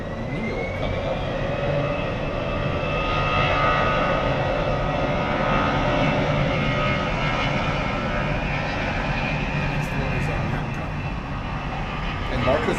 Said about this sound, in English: we have Volaris 320 Neo coming up